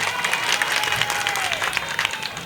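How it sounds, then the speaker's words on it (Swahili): A crowd at a campaign rally in Mbagala, Tanzania, claps loudly and steadily after being urged to cheer, the applause thick and continuous with a little cheering mixed in. "jipigieni makofi."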